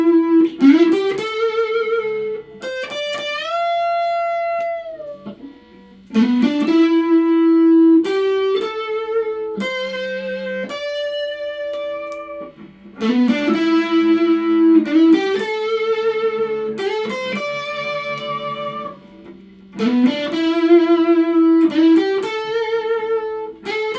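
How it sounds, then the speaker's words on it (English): Squier Classic Vibe 50's Stratocaster played through distortion, single sustained notes and short melodic runs ringing out one after another, loud and close with bright overdriven harmonics and brief pauses between phrases. "I'll play some individual notes with some distortion on."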